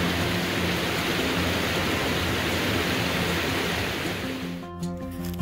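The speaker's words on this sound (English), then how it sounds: "Waterfall." Abrams Falls pouring in a mountain setting, a loud, continuous broadband rush of falling water that fills everything before abruptly cutting away near the end.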